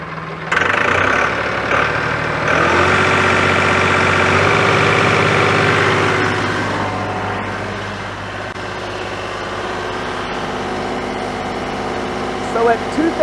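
A Massey Ferguson 2600H tractor engine revs up from idle toward 2000 RPM, its pitch climbing and settling into a loud, steady drone that slowly eases off toward the end.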